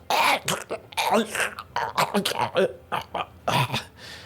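A voice imitates guttural choking, coughing and gurgling noises in a series of short, rough, throaty bursts with brief gaps between them, close and fairly loud.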